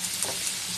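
Garlic frying in a pan with a steady, close hiss of hot oil that holds level through the short moment, with no talk.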